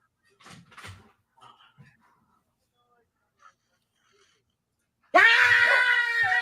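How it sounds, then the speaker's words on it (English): A person in a meme screams loudly in Spanish with a harsh, wavering cry that bursts in after five seconds of near silence, following a few quiet knocks and faint sounds early on. "It's screaming in Spanish."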